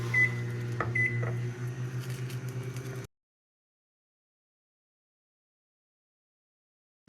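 A $50 Target microwave oven heating milk hums steadily with a low electrical drone, then cuts off abruptly into silence.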